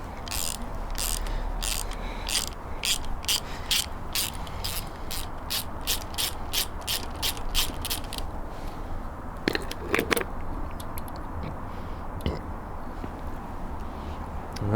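Rapid rhythmic ratchet clicking, fairly close and continuous, removing cylinder head bolts from a Triumph Spitfire engine, with a few brief pauses and metallic clinks later on.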